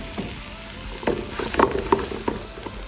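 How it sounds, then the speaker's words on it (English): Finely chopped onion sautés in olive oil for a mushroom-free tomato, spinach and caper farfalle, giving a steady close sizzle with scattered sharper pops and a few soft utensil knocks, with no talking. "And then we're going to saute our 1 onion that's finely chopped."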